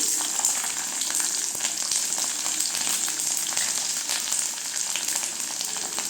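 Garlic and curry leaves fry in oil for a mango and garlic pickle, producing a constant, close, bright sizzle with small popping crackles and no voices.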